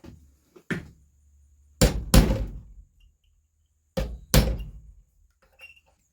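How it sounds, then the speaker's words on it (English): A little hammer taps during a TC Omega trigger installation, giving sharp close knocks that come singly and in pairs separated by pauses, with faint ticks between them and no speech. "we're just going to go back to the little hammer, try to ease it out"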